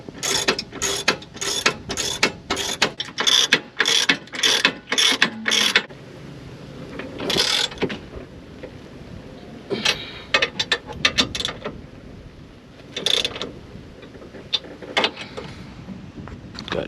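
A ratchet wrench tightens 17mm front suspension nuts on a Honda Civic Si, firing off quick bursts of sharp clicking strokes, then sparser clicks after a pause, close and fairly loud.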